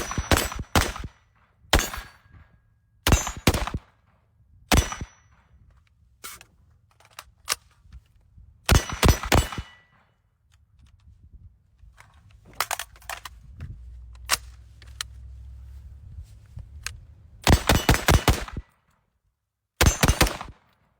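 Tavor X95 rifle fired in a series of sharp, loud shots, single and doubled reports separated by short pauses, with a low rumble between some bursts.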